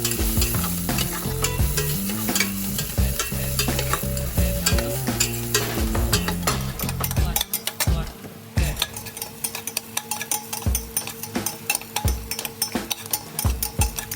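Onion and garlic sautéing in a pan for rice porridge, loud crackling sizzle under constant rhythmic stirring and scraping of a utensil against the pan, the sizzle shifting as ingredients go in midway.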